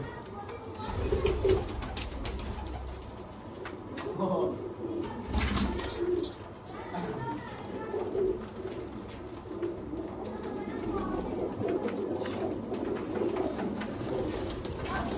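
Sialkoti pigeons coo in soft, low repeated calls, close by and running through the whole stretch, with some rustling and knocks in the background.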